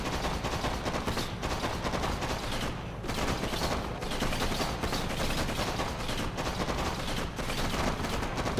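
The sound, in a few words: Jet Tengu firing on cryocopter in Red Alert 3 video game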